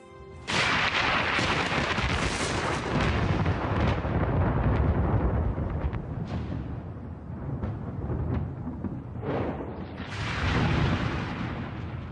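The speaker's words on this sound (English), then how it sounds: "During thunderstorms, electric charges build up, creating lightning bolts that reach tens of thousands of degrees." Deep, sustained rumbling thunder from a thunderstorm rolls loud and continuous, with heavy low cracks and booms swelling and fading over several seconds and no voices.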